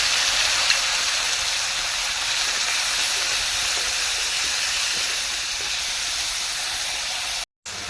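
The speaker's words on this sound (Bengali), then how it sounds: "এবার মাছগুলোকে ভেজে নিতে হবে এখানে এখানে আমি আর বাইরে থেকে তেল দিচ্ছি না তেল অনেকটাই রয়েছে মাছগুলো দিয়ে দিচ্ছি" Prawns frying in plenty of hot oil give a steady, loud, dense sizzle that holds unbroken for several seconds, with a brief drop to silence near the end.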